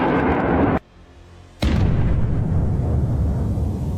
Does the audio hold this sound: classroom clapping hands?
no